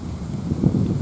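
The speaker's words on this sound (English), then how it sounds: "Sorry about the wind, it's kind of windy out here" Gusty outdoor wind buffets the microphone in a steady low rumble for about a second, with no talk, while a Traxxas-style Brutus RC truck sits muddy after a run.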